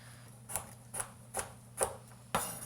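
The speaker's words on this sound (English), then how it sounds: "And now we're going to dice our carrots into small cubes." Carrots diced into small cubes with a knife, five evenly spaced crisp chops on a cutting board, quiet and close over a low hum, with no voices.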